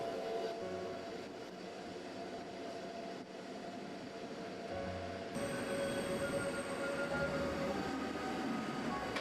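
A Glacier Express train climbs a Swiss mountain railway on rack and pinion toward Ospizio Bernina, giving a steady continuous rumble of wheels and carriages that grows slightly louder and brighter partway through, with a faint high squeal.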